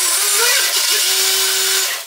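A 3D printed jetboat motor on a 3S battery whines loudly and continuously, its pitch shifting slightly, then cuts off at the end.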